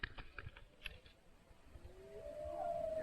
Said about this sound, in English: That's a wolf. That's a pack of wolves.